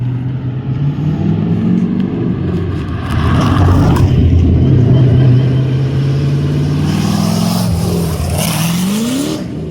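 A 600+ HP sand car roars as it spins its back tires, the loud engine holding a low steady drone before revving up sharply near the end, close and dominant with no talking.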